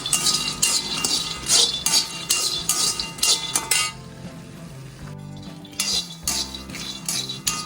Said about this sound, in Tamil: கடலையை ஒரு இரும்பு வானலியில் போட்டுரும்